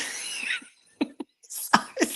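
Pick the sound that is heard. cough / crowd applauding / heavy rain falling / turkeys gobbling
cough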